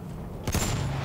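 Enemy machine gun fire rattles out in Battlefield 1, a sudden short burst of several rapid shots after a brief lull, fairly loud amid game background noise.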